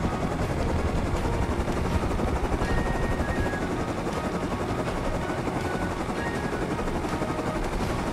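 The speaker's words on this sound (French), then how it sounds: "je savais que j'allais choper un hélico" A helicopter in the video game Rust thunders overhead with a dense, continuous rotor chop that stays loud throughout, without any speech.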